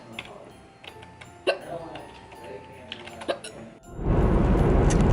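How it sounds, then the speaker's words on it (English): Repeated hiccups from one person, sharp isolated bursts spaced irregularly across the first few seconds, then drowned out by a loud broadband rush of noise at the end. "4 hours later, the hiccups have returned."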